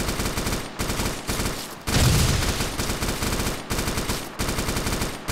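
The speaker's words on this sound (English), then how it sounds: "Enemy machine gun in front, 100 meters." Bursts of enemy machine gun fire in the military shooter game Arma 2, loud and close, firing in repeated rapid strings with short gaps between them and one longer, heavier burst near the middle.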